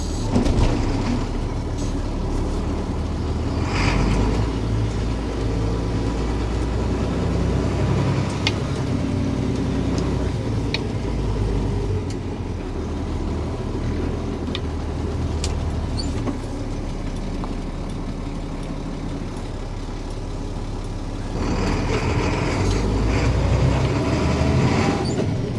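An International 4700 dump truck chassis with a DT466E diesel engine drives along with a loud, low, steady engine rumble and road noise, rising a little at the start and again near the end.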